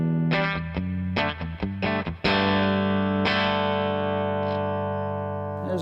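Clean electric guitar through an amplifier with the amp's reverb and all effects pedals off: a few plucked notes, then a sustained strummed chord ringing out and slowly decaying.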